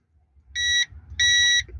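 Two short, bright electronic beeps from a multimeter continuity test, as the probes touch, sound close by, separated by a brief pause, over faint low background rumble.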